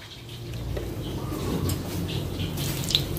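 Water from a kitchen tap runs over morning glory greens, a soft, steady splashing hiss at moderate level with faint clinks and a chirp-like ping near the end, no voices.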